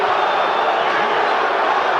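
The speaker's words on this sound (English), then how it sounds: "the part of the crowd that supports Holyfield boos lustily when the Let's Go Bowe chant breaks out" A packed arena crowd at the Riddick Bowe vs Evander Holyfield boxing match chants and roars in a dense, continuous din that fills the whole stretch.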